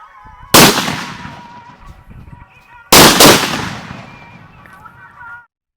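A string of Indian country firecrackers (nattu vedi) set off for Diwali, bursting in two loud, sharp blasts about two seconds apart, each followed by crackling debris and a fading rumble.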